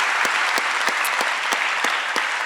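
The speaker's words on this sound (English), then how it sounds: "Can we have a round of applause for them?" A crowd applauds steadily and fairly loudly, with dense clapping and a few sharper, rhythmic claps standing out.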